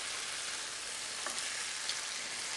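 Salmon fillet sizzling and frying in a pan, a steady close hiss of hot oil with faint crackles and a light stir or turn partway through.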